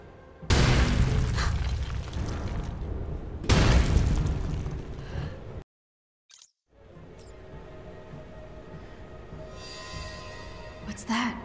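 A structure collapsing in the Marvel's Avengers video game, with two loud, heavy booms and rumbling debris, a brief silence, then a lower ongoing crumbling rumble with scattered cracks.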